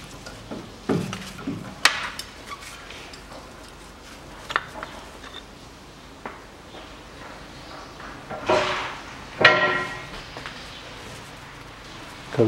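Scattered metallic clanks and knocks, close by and fairly quiet, as a caliper bracket is worked loose and taken off the front brake of a Volkswagen Passat B6; there are long quiet gaps between the louder hits and no talk.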